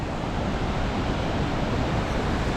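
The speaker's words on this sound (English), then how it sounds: "This is the hidden waterfalls." Waterfall at Hidden Falls in Grand Teton National Park, Wyoming, a steady, loud broadband rush of falling water that holds constant throughout with no breaks, dense low rumble beneath a hissing spray.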